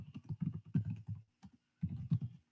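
Quiet, close typing on a computer keyboard: a quick run of soft key clicks, a brief pause, then another burst of keystrokes.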